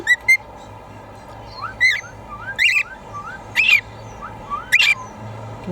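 A pet cockatiel whistles and chirps in a series of short, bright rising calls, repeated roughly every second and heard close and clear with no one talking over them.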